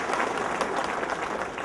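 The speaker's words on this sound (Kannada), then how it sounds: "ಅವ್ರಿಗೂ ಒಂದು ಚಪ್ಪಾಳೆ ಕುರುಬ ಸಮಾಜದ ಬಾಂಧವರೇ" A crowd applauds an honoree at a Kuruba community felicitation event, with dense, steady clapping throughout the short stretch.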